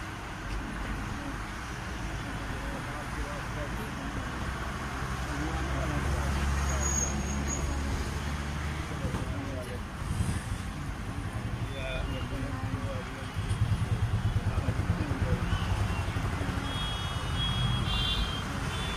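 Cars of a presidential convoy moving along a road, a continuous rumble of passing engines and traffic with a steady high tone over it, people talking nearby throughout.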